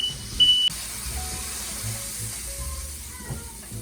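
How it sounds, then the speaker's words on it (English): A smoke alarm gives a short high electronic beep in a kitchen where a chicken is roasting, the chirp cutting off after a moment over faint hissing and low background clatter. "There goes my smoke alarm."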